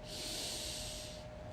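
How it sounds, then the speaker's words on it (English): Ujjayi breath drawn through the nose during a yoga practice, one long, close, hissing breath that holds steady and fades slightly at the end. "using the Ujjayi breath in through our noses and out through our noses"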